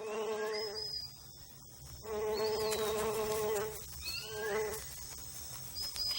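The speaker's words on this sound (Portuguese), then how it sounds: "Seu néctar rico atrai abelhas e outros insetos." Steady buzzing of bees and flying insects at nectar-rich tropical Amazon flowers, some drones swelling and fading as they pass close by, with high whining tones over a continuous hum.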